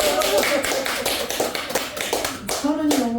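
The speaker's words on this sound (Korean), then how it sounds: "박수 좀 쳐봐요." Audience clapping at a Buddhist dharma talk, a dense patter of many hands sustained throughout, fairly close, with voices mixed in.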